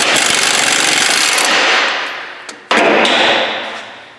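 An air impact tool spins off a ball joint stud nut on a Ford F350 Super Duty: a loud, close, continuous hammering rattle that fades, cuts out briefly and then bursts back at full strength.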